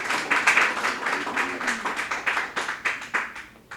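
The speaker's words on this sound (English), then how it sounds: "Let's give Ryan a round of applause." A library audience gives a round of applause for a young cabinet member, a modest scattering of claps from a small crowd, fairly quiet and sustained for several seconds.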